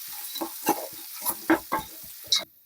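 Garam masala stirred into vegetables frying for veg pulao, with a spoon scraping the pan in a series of irregular strokes over a faint, steady sizzle, up close.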